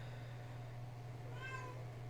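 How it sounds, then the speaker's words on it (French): A house cat gives a single faint, drawn-out meow toward the end, over a steady low electrical hum in a quiet room. "je m'excuse pour le chat qui miaule"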